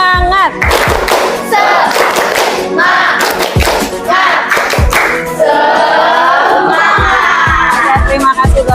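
Classroom group of students performing a rhythmic spirit clap, loud patterned claps and thumps in bursts mixed with shouted chanting voices, close and energetic throughout.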